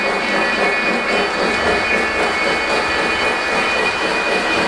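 A LionChief Plus Hudson model locomotive pulls a full train over an elevated layout through paired switches, producing a steady, loud whirring hum with a faint rhythmic clatter that never lets up.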